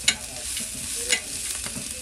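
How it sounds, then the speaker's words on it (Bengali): Bay leaves fry in hot oil in a pan, giving a soft, steady sizzle with a few light stirring scrapes, heard close and without talk. "এই দেখেন তেজপাতা কিরম দিচ্ছি, তেলে ভাজি দিয়ে"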